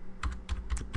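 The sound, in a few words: typing traceroute command on computer keyboard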